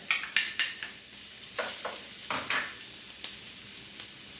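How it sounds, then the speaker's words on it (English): Mushrooms and a minced shallot browning in hot butter in a pan, with a soft, uneven sizzle broken by light scraping stirs and spatula taps. "Now we're browning, real browning."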